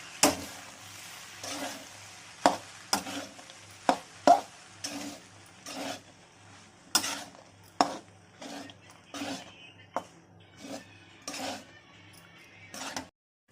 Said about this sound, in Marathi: छान असं हलवून घ्यायचं, सगळं मिक्स करून घ्यायचं